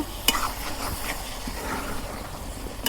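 Beef being stirred and fried in oil, with steady sizzling under irregular scraping stir strokes throughout, close and moderately loud, no voices.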